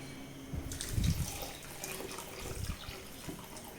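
Water being poured from a cup onto sugar in a kadai on the stove to start a syrup; a short splashing pour with a brief louder gush, then light trickling and faint clinks in a quiet kitchen.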